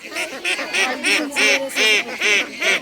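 A run of loud, nasal honking duck quacks, about eight in steady rhythm, close by with no talking.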